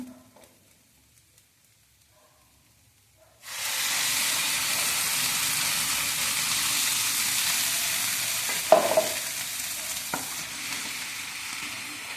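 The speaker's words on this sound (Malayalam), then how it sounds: "ഇനി നമ്മൾക്ക് ഗ്രൈൻഡ് ചെയ്ത് വെച്ച തക്കാളി ഇതിലേക്ക് ഒഴിക്കണം." Ground tomato hits a hot pan of oil for an okra and shallot tamarind curry. After a few seconds of near silence, a loud, steady, hissing sizzle starts abruptly and stays close, with a couple of clinks.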